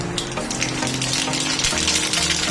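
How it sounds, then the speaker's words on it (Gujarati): Mustard seeds dropped into hot oil in an aluminium pan for a khaman tempering, crackling and sizzling in a dense, continuous hiss that is close and fairly loud, with no voices. "હવે એની અંદર રાઈ નાખી દઈશું."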